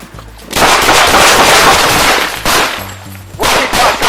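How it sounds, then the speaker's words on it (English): Gunfire erupts during a police shootout at a traffic stop, loud sharp bursts filling the scene, dipping briefly then resuming in another burst near the end. "That's when bullets start to fly."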